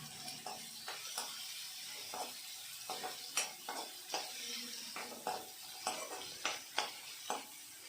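Chopped onion frying in a home kitchen pan while a spoon scrapes and stirs it, giving repeated clinking strokes over a soft background sizzle.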